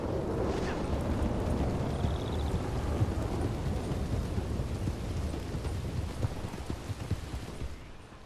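A thunderstorm rolls through the Red Dead Redemption 2 game world, heavy rain hissing steadily with low rumbling thunder underneath, loud and continuous with no voices.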